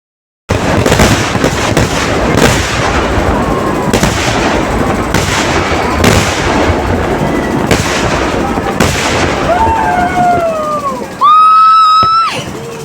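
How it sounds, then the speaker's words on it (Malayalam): Loud fireworks burst in dense, rapid succession during a night Thalappoli festival at Mayannur Kavu temple in Kerala, crackling and booming continuously, ending with a steady whistling tone. "ഇതൊക്കെ കണ്ടുകൊണ്ട് നിൽക്കുമ്പോഴാണ് 8:30 വെടിക്കെട്ട് 8:20 തുടങ്ങിയത്"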